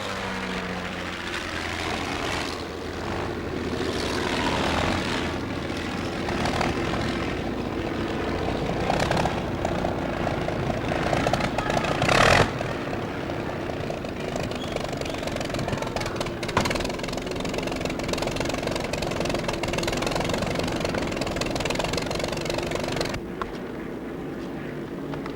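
An aircraft propeller engine runs steadily and loud for a long stretch, with its droning roar rising and falling slightly and a few brief louder bursts.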